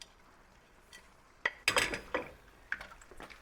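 Spoon clatter and metallic scrapes in a pan as cooked prawns and scallops are stirred into seafood risotto, a cluster of bright knocks followed by a few lighter clinks, close and without speech.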